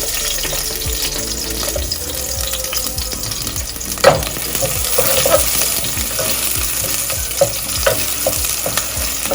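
Chopped onion frying in olive oil and butter in a pan, a steady close sizzle with occasional stirring clinks and scrapes, no talking.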